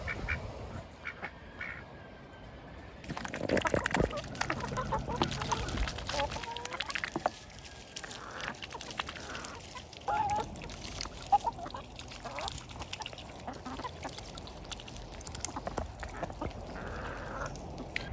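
A duck quacks among a flock of chickens behind a fence outdoors. The calls are faint, scattered and sit under steady background noise and bird chatter.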